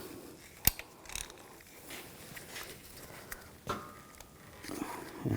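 A socket wrench loosens the top nut on the front shock of a 2004-2009 Audi A4 Quattro, the strut held by a 6mm hex bit, giving close, sparse metallic clicks and ratcheting ticks with one sharp snap near the start.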